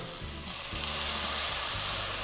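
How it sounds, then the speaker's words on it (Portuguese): Shrimp risotto bubbling and sizzling in a pan on a stovetop as broth is stirred in, a steady close frying hiss with low popping bubbles, no talking. "Borbulhando, ó."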